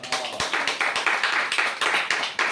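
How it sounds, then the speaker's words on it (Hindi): A church congregation claps for Jesus, a dense, fast run of hand claps with rhythmic surges, loud and close, with no talking over it. "यीशु के लिए एक अच्छी ताली बजाएं।"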